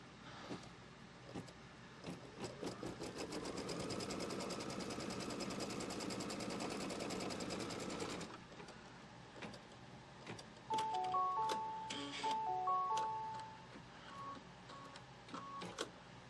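An embroidery machine runs a tack-down stitch on quilt fabric, a steady rapid mechanical stitching buzz for several seconds, then it stops and a few short electronic beeps sound.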